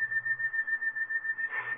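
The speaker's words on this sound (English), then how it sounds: "I've been hearing that song in my head. Like somebody whistling it." A single person whistles a slow, sad tune, one clear sustained note wavering with a gentle pulsing vibrato, close and alone in a quiet room.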